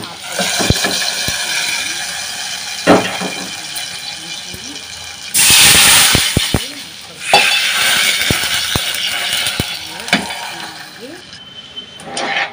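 Leafy greens dal (akukura pappu) stirred in a pot, a steady close scraping and stirring with clattering utensil knocks and a louder sizzling burst midway, no speech.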